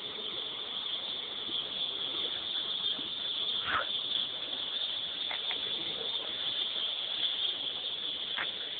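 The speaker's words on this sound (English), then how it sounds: "Lots of cicadas out tonight." Cicadas at night by a low-water bridge, a steady high-pitched drone that holds throughout with a few brief sharper calls rising above it, fairly faint and continuous.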